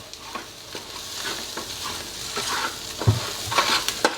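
Spices frying with garam masala in a pan: close, continuous sizzling under repeated scraping and knocking strokes of a spatula against the pan, getting busier toward the end, with no talking.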